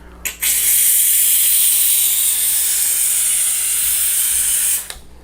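A steam cleaner and sanitizer runs at full power, giving a loud, steady broadband hiss of escaping steam that starts abruptly, holds evenly for over four seconds, then cuts off.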